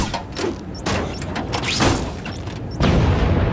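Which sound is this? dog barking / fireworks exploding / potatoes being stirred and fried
fireworks exploding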